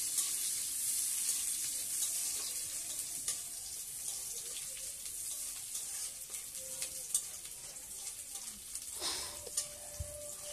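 Lau shaak chorchori, a Bengali village-style bottle gourd leaf curry with panch phoron, bay leaf and dried chillies, sizzles steadily in a pan while a utensil stirs with occasional scraping clinks.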